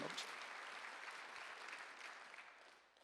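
Korean church congregation at a Thanksgiving Sunday service clapping, a soft, distant wash of applause that gradually fades over a few seconds.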